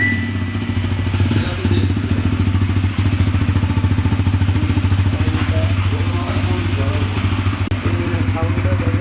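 Unmodified fuel-injected motorcycle engine idling and running nearby, a steady mid-pitched thrum with fine rhythmic pulsing, someone talking over it.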